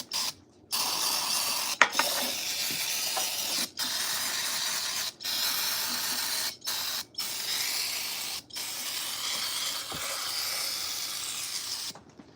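Carburetor cleaner sprayed from an aerosol can onto a Plymouth engine during a rebuild, a series of loud close hissing bursts of a second or two each separated by short gaps, with some faint mechanical clatter.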